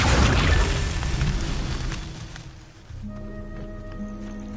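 Casting the Accio summoning spell in Hogwarts Legacy gives a soft magical burst that swells and fades into a whoosh, then settles into quiet, ringing tonal chimes.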